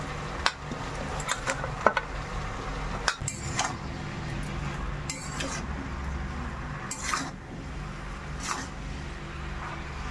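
Spinach is stirred into a pan of mixed vegetables with cumin powder, a spoon scraping and clinking against the pan in scattered knocks over a steady low background hum.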